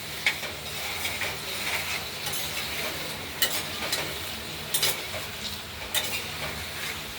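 Potatoes fry in a pan with pinches of turmeric, a steady sizzle running underneath while a utensil scrapes and stirs, with several sharper clinks against the pan.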